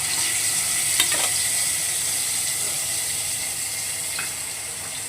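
Leftover hilsa frying oil sizzles in a pan while taro greens cook with fish head, a steady close hiss with faint stirring clicks, no talking.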